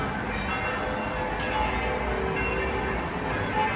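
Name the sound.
church bells ringing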